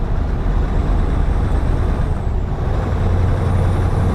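A Scania truck in Euro Truck Simulator 2 drones steadily with a low engine hum, while a hissing air brake release runs through the sound without a break.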